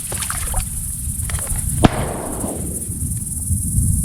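A single loud shotgun blast during an evening teal duck hunt in Kansas marshland, sharp and close with a rolling echo fading afterward over a steady background hiss.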